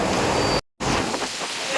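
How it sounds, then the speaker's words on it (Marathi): Monsoon rain falls steadily with thunder rumbling low beneath the hiss, a broad continuous wash broken by a short cut of silence before resuming. "आता मस्तपैकी पाऊस लागता आणि या पावसात आता आम्ही ना बटाट्याची भजी बनवतो"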